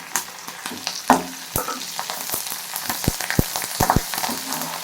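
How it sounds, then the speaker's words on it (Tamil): Dried red chillies and curry leaves fry in hot oil for bottle gourd koottu, with sharp pops and spits bursting over a steady background sizzle, up close. "இப்போ வத்தலும் கருவேப்பிலையும் போடுவோம்."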